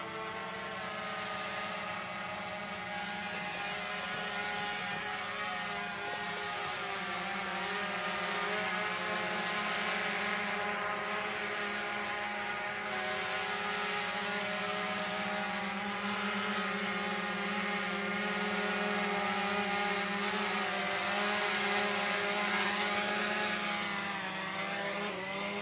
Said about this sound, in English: All right, so here comes the quad.